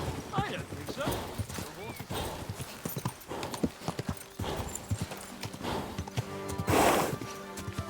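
Horse hooves clop unevenly on the ground in Kingdom Come Deliverance II, close and fairly loud. A horse snorts once and a voice speaks briefly over them.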